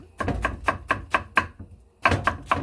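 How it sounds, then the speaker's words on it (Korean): A knife chops radish into thin strips for pot-cooked radish rice: about ten crisp, evenly spaced strikes on a cutting board, a short pause, then three more, close and clear with no talk. "무를 써는 것도요"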